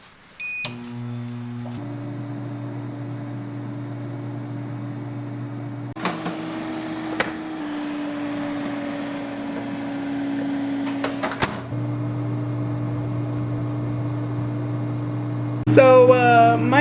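An air fryer running with a steady electric hum and whir, broken by a few sharp clicks and knocks, ending in a brief high beeping.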